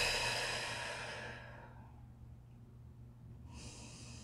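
A slow, deep exhale during a stretching mobility workout fades out over a couple of seconds, followed by a quiet pause and then a fresh breath in, close and intimate.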